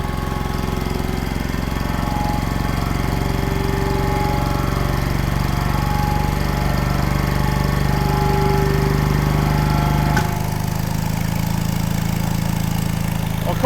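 Close by, a repaired old air compressor runs with a steady knocking drone, then abruptly drops to a lower, quieter tone near the end.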